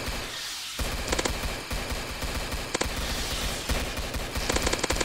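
Gatling laser gun in the Roblox game Zombie Attack firing in a sustained rapid burst, a dense continuous stream of shots with brief sharper bangs, loud and close with no talking.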